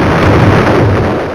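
Bomb exploding in the Roblox Brookhaven video game, a single loud, dense rumbling blast that fills the short moment with no talking.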